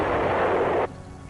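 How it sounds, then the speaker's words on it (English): Heavy artillery fire from 175mm howitzers in the Vietnam War, a single sustained loud blast lasting close to a second before cutting off abruptly into quiet background. "The biggest American artillery pieces, the 175mm howitzers, could destroy a target at a range of 20 miles."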